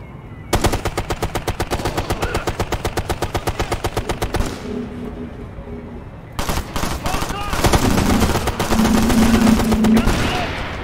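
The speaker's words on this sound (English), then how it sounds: "Oh, ini shotgun, parah." Shotgun fire in Tom Clancy's Ghost Recon: Future Soldier, a fast run of loud, evenly spaced blasts, a pause, then more heavy firing with game effects and voices underneath.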